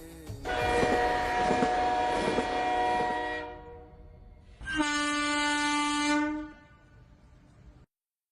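A train rolling along with two long, loud horn blasts, the first about three seconds and the second after a short gap, over a steady running rumble that fades out at the end.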